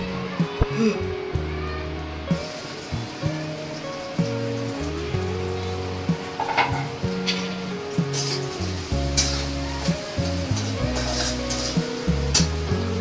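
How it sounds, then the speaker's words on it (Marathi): Onions sizzle steadily in a hot black kadai for egg bhurji, a continuous crackling hiss that runs throughout beneath louder background music. "कढई मस्त कांदा भाजला जाते"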